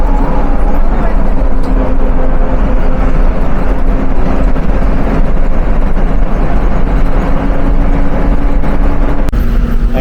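Steady engine rumble and road noise of an intercity bus cruising at about 70 km/h on the highway from Rajshahi to Natore, continuous and loud, with faint voices inside.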